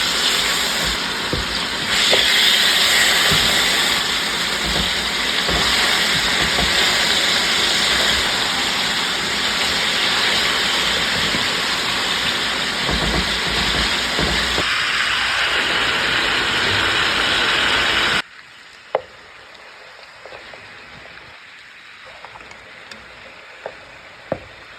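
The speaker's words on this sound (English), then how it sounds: "So we can go ahead and start searing our meat now." Pork neck bones sear in a hot pan for about eighteen seconds, a loud, steady broadband sizzle and hiss that cuts off abruptly, leaving near-silence with a few faint clicks.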